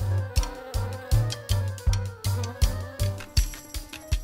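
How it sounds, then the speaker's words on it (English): Honeybees around a hive give a close, loud buzzing that pulses in a regular rhythm, roughly two swells per second, with no voices. "Honeybees collect nectar from plants and bring it back to their hive."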